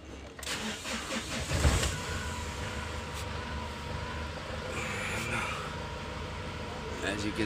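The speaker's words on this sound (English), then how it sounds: "I'm gonna start the car and then we'll check it again." A Mahindra Xylo engine cranks and fires up near the start, then settles into a steady low idle, close by, with a voice speaking over parts of it.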